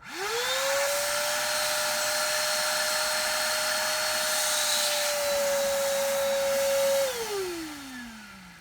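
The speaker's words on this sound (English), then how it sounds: "Turn on the vacuum cleaner." Shop vacuum cleaner running with its hose sucking water to start a siphon for draining a pool: a steady loud motor whine that spins up at the start, holds evenly, then winds down near the end.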